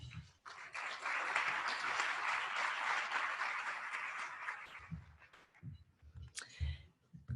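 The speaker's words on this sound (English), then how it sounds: "let's give them a round of applause for their cool culture" Awards event audience giving a round of applause, a dense burst of clapping lasting about four seconds before dying away into scattered claps, thumps and small noises.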